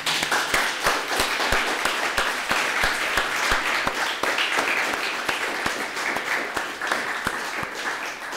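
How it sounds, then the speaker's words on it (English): A conference audience at a mathematics lecture gives sustained applause to thank the organizers and scientific committee. A dense, even roar of many hands runs throughout, with a few sharper individual claps standing out. "So I invite you to actually clap for all of this."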